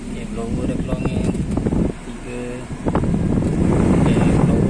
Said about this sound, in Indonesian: Okay, blower dah keluar angin.